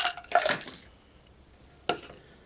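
Old junk coins clink as they are handled, a short burst of metallic jingling followed after a pause by a single sharp clink, close and quiet, with no talking.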